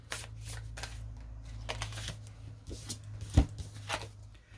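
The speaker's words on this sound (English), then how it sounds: "One more shuffle." Rapid papery riffling of a deck of astrology cards being shuffled, a soft fluttering burst with a brief louder snap near the end, over a low steady hum.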